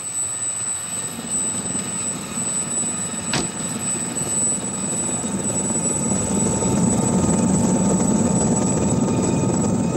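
An RAF Shawbury training helicopter flies nearby with a steady rotor and engine roar that builds slightly louder, alone without voices.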